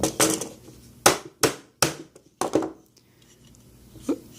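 A hammer taps on a coin mechanism during installation, a handful of sharp irregular knocks with short pauses between them, fairly close, followed by quieter faint clicks.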